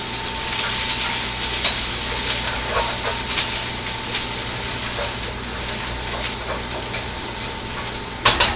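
Vegetables sizzle steadily in hot oil in a pan for a shrimp stir-fry, a loud continuous hiss broken by occasional scraping clicks as they are pushed around.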